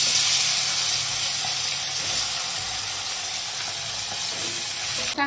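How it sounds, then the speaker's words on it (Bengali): Fish frying in hot mustard-style cooking oil in a home kitchen pan, a steady dense sizzle and crackle that runs close and loud throughout with no talking. "তেলটা গরম হয়ে গেছে, এবার মাছটা দিয়ে দেবো।"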